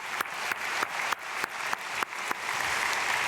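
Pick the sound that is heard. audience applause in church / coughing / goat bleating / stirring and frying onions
audience applause in church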